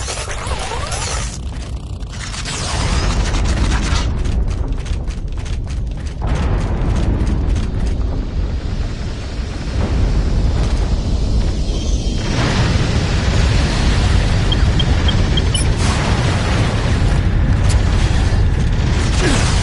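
A critical explosion in the video game Vanquish sets off heavy booming blasts and clattering mechanical debris, loud and continuous, with surges of rumbling impact layered over sustained noise.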